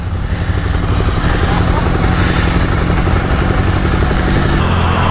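A Ducati Monster 795 motorcycle engine runs steadily up close, a loud, constant rumbling drone with no breaks.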